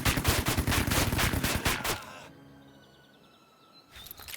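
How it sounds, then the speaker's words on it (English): A machine gun rattles in rapid, dense bursts for about two seconds in the World War II strategy game Headquarters during the Battle of the Bulge in the Ardennes, then drops to quieter ambient battlefield noise with a faint sharp crack at the end. "They moved up an MG."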